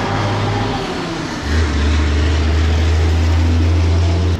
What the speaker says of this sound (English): so this loud ass truck wants to come out